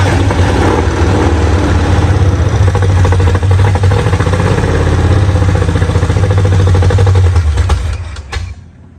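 A 1968 Ford Mustang engine runs with a miss, chugging loud and close in an uneven, lumpy idle with clattering pulses for several seconds before it dies away.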